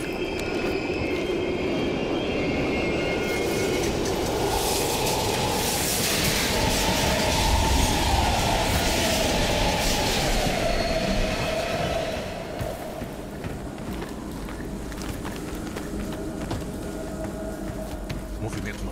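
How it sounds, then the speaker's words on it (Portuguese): Train pulling through a station in Call of Duty: Black Ops Cold War, a steady low rumble and rolling hiss that eases off partway through. "O trem tá parando."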